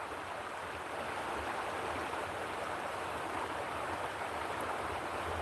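Creek water flowing in a steady, even rush that holds through the clip, close and moderately loud, with no speech over it.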